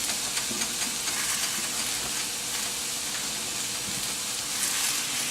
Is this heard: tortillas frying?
yes